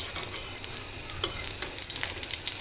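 Food for an iftar meal fries in a pan while being stirred and turned over, giving a steady crackling sizzle with sharp scraping clicks throughout. The sound is close and there is no talk.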